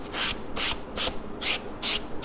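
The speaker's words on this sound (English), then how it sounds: "all you do is you take your little sanding sponge" A sanding sponge rubs back and forth over a painted wooden card catalog in six even, rhythmic strokes, each a close, bright scratchy swish separated by short pauses.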